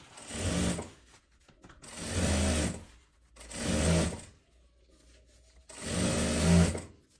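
A sewing machine stitching a fabric travel bag runs in four loud bursts of rapid whirring, each a second or so long, separated by short quiet pauses.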